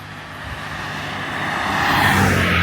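A fast car on a Thai street at night approaches and grows steadily louder, its engine and tire roar swelling to a close, loud pass near the end.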